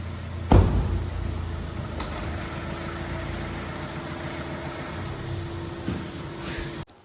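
A car engine idles steadily at low volume inside the vehicle, opening with a door thump and a faint hum holding until it cuts off at the end.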